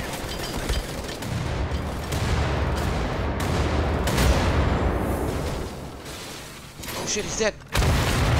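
Grenade explosion and gunfire in Wolfenstein: The Old Blood, a dense barrage of loud booms and rapid shots that swell mid-clip, then sharp bursts near the end, with a voice talking over them.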